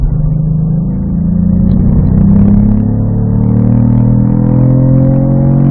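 Cadillac V-Performance car accelerating down a track straightaway, a loud, close, steady engine roar with pitch climbing smoothly through the rev range, heard from inside the cabin without talk.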